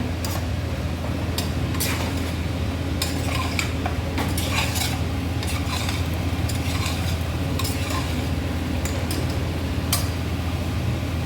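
Chicken sautés with tomato in a pan for pepper chicken gravy, a continuous sizzle under frequent clinks and scrapes of a spoon stirring against the metal, close and steady with no talking.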